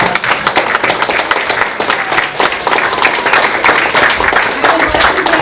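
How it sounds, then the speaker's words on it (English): A college choir's fall concert audience breaks into sustained, dense applause, steady and loud throughout, with many hands clapping at once. "let's give them a round of applause."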